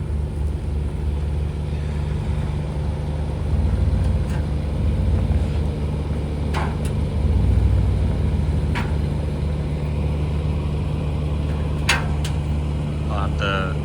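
A race truck engine runs steadily in four-wheel-drive low, a loud continuous rumbling drone that holds throughout with slight surges, while people talk over it.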